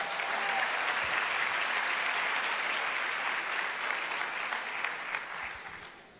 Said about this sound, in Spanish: Un aplauso a los caballeros.